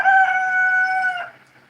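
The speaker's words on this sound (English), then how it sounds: "a really fucking peckish rooster that is about to turn into dinner if it's not careful" A single loud, close rooster crow holds steady for just over a second and then trails off, with no talk over it.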